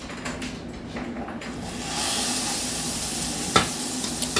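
A mushroom burger patty lands in an oiled skillet and sizzles steadily, a broad hiss that swells after a couple of seconds, with a sharp clink partway through.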